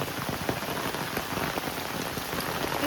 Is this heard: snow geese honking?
no